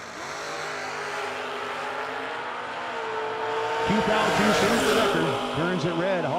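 A 4th gen Camaro drag car launches down a bracket-racing strip, engine revving louder and rising in pitch from the start, heard under a track announcer's voice.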